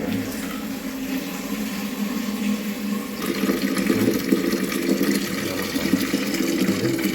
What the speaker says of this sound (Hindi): और अब इसमें गर्म पानी और साथ थोड़ा ठंडा पानी मिला देंगे।